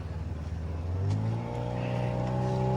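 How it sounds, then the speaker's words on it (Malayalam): A boat passes through a mangrove waterway in Pondicherry, its engine a close, steady droning hum that rises slightly in pitch as it goes by. "നമ്മുടെ ബോട്ടിനെ ക്രോസ് ചെയ്തൊരു ബോട്ട് അങ്ങോട്ടേക്ക് പോകുന്നുണ്ട്"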